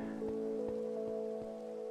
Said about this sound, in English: And it's starting to rain.